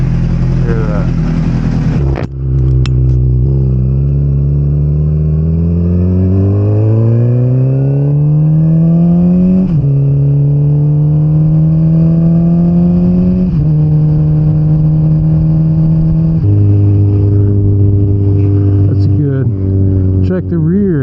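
A motorcycle engine, recorded from a helmet-mounted Insta360 Go 3, drops out of high fast idle and then revs up in loud, rising and falling sweeps, droning continuously and up close.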